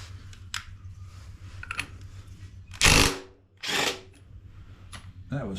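Wrench work on a nut on a 1972 Yamaha CT2 motorcycle: a few short bursts of metallic ratcheting and scraping, close and moderately loud, with a steady low hum underneath and no talking.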